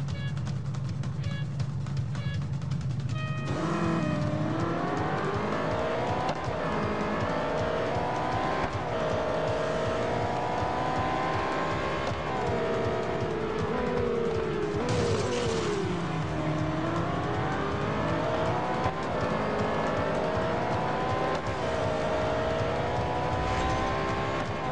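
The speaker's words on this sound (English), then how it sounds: "I'm playing the Real Racing 3 game to test the box's 3D graphics capability" Car racing sounds from the Real Racing 3 video game play loud and continuous, with engine roars rising and falling through gear changes, plus squealing tires and skids, over a steady dense background.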